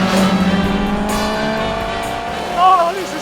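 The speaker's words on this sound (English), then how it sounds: "This is a Mk1 Ford Escort, a car that I absolutely adore." A Mk1 Ford Escort, built to behave like a GT40, driven flat out, its engine roaring loud and close in a steady high drone, with a brief rising rev and tire noise near the end.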